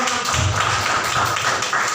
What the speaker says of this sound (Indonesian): di sini tepuk tangan dulu yang meriah